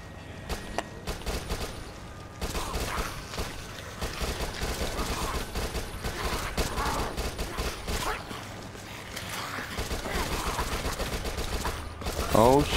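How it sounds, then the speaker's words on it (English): Submachine gun fire in the zombie shooter Dead Nation comes as dense, sustained bursts of rapid shots, loud and continuous over game noise, with a sweeping effect near the end. "SMG."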